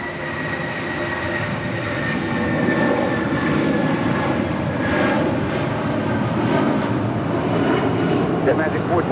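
An airplane lands on runway 25 left at LAX, a loud, steady, close jet roar filling the whole stretch without a break.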